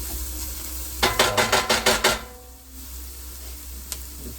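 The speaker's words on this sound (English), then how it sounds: "if you overcook garlic in the frying, like this" Several quick scraping stirs in a pan over a soft sizzle of frying garlic, about six strokes in a row, then the frying hisses on quietly with one faint clink.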